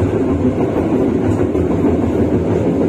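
Train running on a double-track line while arriving at Sepanjang station, heard as a steady close rumble of rolling wheels and carriage noise with faint rhythmic clicking, no voices.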